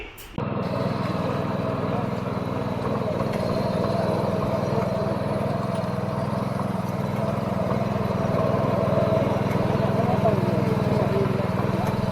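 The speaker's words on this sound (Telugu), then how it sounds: "మనం ఇక్కడ చూస్తున్నది fortune global 7 HP gear driven petrol power వేడర్" A Fortune Global 7 HP petrol gear-driven power weeder runs at a steady idle, a close, continuous low engine drone after a brief start, with someone talking over it.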